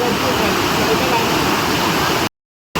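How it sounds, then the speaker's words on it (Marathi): Steady rushing of a small river flowing at Ashok Vatika, Sri Lanka, a continuous broad wash of water close by that cuts off abruptly near the end. "ही बघा, ही अशी वाहणारी नदी आहे."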